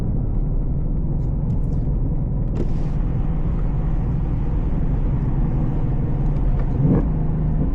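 A Ford Mustang Dark Horse with a six-speed manual pulls hard in third gear, its engine a steady, loud, continuous rumble from inside the cabin, rising slightly through the run.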